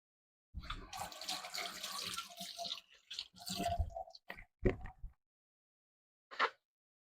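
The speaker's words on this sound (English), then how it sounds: "Let me wash my hands." Tap water runs into a kitchen sink during handwashing, a steady rush for several seconds broken by short splashing bursts, then a brief final splash after a pause; close and fairly quiet, with no talking.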